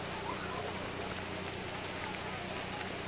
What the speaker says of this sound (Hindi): दोस्तों ये बहुत शदीद बारिश शुरू हो गई है